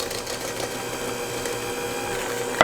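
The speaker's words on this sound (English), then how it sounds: "Now that it's starting to thicken up, I'll turn up the speed on my mixer." An electric mixer beats cake batter for a vanilla caramel pound cake, giving a continuous close whirring drone with a steady rattle, alone throughout.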